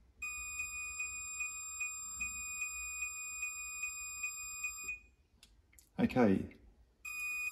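Diode continuity meter across closed ignition points on a 1956 Ariel Square Four: a steady high electronic tone pulsing in regular beeps for about five seconds, then cutting out, followed by a brief spoken word and the tone resuming.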